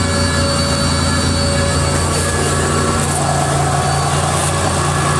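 Steady road noise and engine drone from a 1986 Lesharo RV under way, a continuous low rumble with broadband wind and rattle throughout, loud and unbroken.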